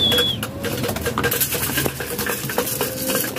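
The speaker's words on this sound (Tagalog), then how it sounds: "Kainan na yung ating mga ibon." Pigeons feeding on scattered grain in a loft, with busy pecking and clattering taps on hard surfaces, light wing flutters and scattered bird calls, close and continuous.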